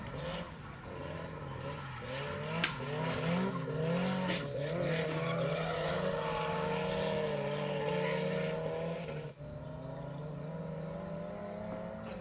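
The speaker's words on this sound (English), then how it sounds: "Both cars cruising through the course." Two drift cars running a course at Mineral Wells, engines droning steadily with long rising and falling tire squeals as they slide, heard from a distance and sustained throughout, briefly dipping near the end.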